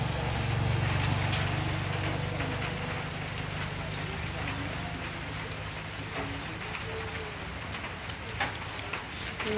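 Steady rain falls on a busy road during a traffic jam, a dense constant hiss of drops with faint vehicle noise underneath and a voice in the background.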